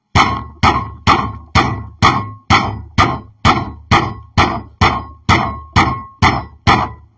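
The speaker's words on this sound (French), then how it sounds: "C'est le fer qu'on cogne." Iron is struck hard about a dozen times in an even, steady rhythm, each metallic clank ringing briefly before the next blow.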